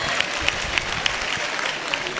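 A seated audience in a hall at a board-exam guidance session gives a short burst of scattered clapping, fairly close and steady, with faint crowd murmur.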